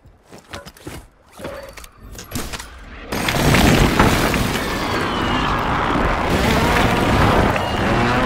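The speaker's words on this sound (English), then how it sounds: "Hostile airstrike near your location." Airstrike explosions in Call of Duty Warzone Rebirth: a few quiet thumps give way to a sudden loud blast that swells into a sustained roaring, crackling rumble of debris and fire lasting several seconds.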